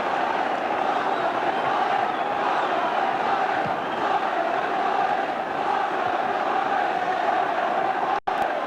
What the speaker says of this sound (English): finally lifts the crowd at the Vetchfield to its feet